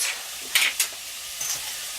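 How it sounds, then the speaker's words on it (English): Indian chicken curry base sizzles steadily in a pan at close range, with a couple of sharper stirring scrapes breaking through the frying hiss. "So we'll just let that fry up for a second or two."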